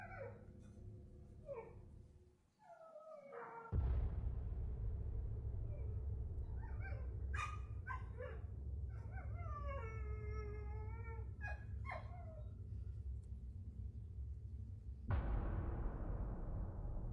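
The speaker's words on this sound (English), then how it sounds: "As Carlin steps outside, the dogs can be heard whimpering and barking." Dogs whimper and bark outdoors at night, with several high whines and yelps breaking over a steady low background hum, fairly near and without talk.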